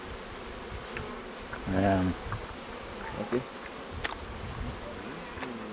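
A faint insect buzz hums through the background, with a short spoken word and rustling outdoors.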